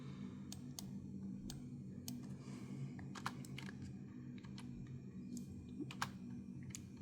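Quiet, close clicks of typing on a computer keyboard in short irregular bursts over a low steady hum, entering towing figures for a 2024 Toyota Tacoma.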